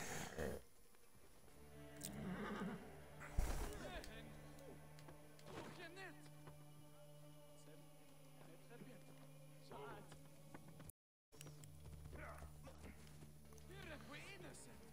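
Horse sounds in Assassin's Creed Origins, with clip-clopping hooves and a few snorts and whinnies over a busy game soundscape, fairly quiet, with speech heard at moments and a brief dropout near the end.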